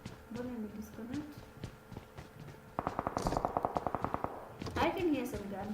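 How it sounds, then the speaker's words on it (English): Bursts of rapid automatic gunfire crackle in PUBG Mobile during a pro league match, starting midway as a fast run of sharp shots, mixed with game sounds and a voice talking over it. "I can hear some gunfire."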